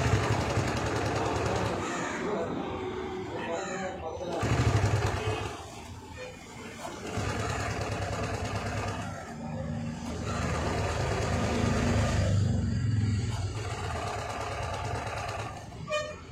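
A TVS XL100 BS6 moped with a starting problem and suspected fuel pump fault has its self-starter pressed again and again. Loud, rough whirring cranking bursts come one after another, separated by short pauses.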